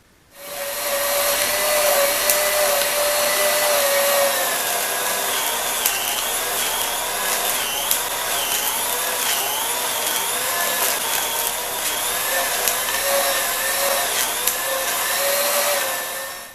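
A grinder chews through silicone mold rubber, giving a loud, continuous high-pitched whine whose pitch dips and rises as chunks feed through, running steadily for the whole stretch.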